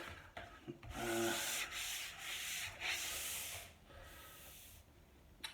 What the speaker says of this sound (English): I am literally just going to give it a very gentle sand. I'm using my 220 grit sponge